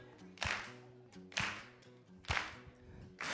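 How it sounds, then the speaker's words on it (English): An audience claps along in time at a Motown history show, with three or four loud, sharp, evenly spaced unison claps over a low musical backing. "I need you to clap your hands with me if you can"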